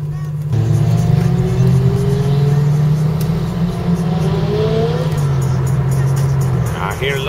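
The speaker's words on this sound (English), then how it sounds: "I hear a little turbo kicking in it." A Honda car engine drones steadily nearby while a faint rising whine climbs over it, like a turbo spooling up as the car accelerates.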